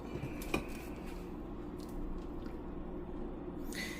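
Cooked Garofalo organic spaghetti being strained from a pot, with a steady wash of draining water and a single sharp metallic clank of the pot near the start, close and moderately loud.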